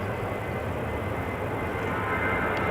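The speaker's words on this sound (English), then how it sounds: "This is Transavia flight 5421 on its way to Pisa in Italy." A Transavia Boeing 737-800 departing Amsterdam Schiphol, a steady, dense jet-engine rumble that stays loud and constant through the short stretch, no voices.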